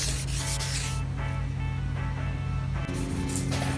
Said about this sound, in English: move on to the 2000 grit sandpaper and do the same thing, sand in a crosshatch pattern